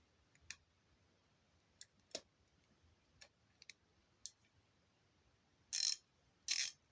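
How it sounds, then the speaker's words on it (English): A ratchet wrench with a plastic handle clicks in a few sparse, sharp ticks, then gives two louder, quick ratcheting bursts near the end, close and clear against a quiet background. "And it ratchets."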